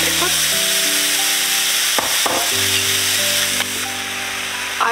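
Apricots going into a pot on a stovetop over high heat, giving a steady, close sizzle that runs unbroken under a faint tonal hum, with a brief dip around the middle.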